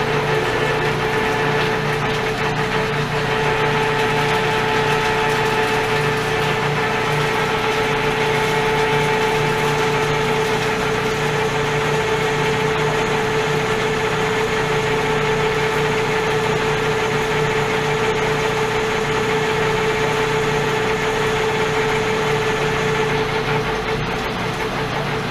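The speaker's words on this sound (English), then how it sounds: "full-size drill" A full-size drill runs steadily with a constant motor whine and hum throughout, preparing a nut for four-start threads, with no talking.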